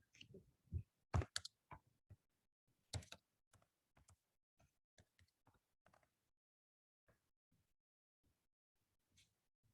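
Light keystrokes on a computer keyboard come in short irregular bursts and single taps, fairly close and quiet, with a faint voice now and then between the clicks.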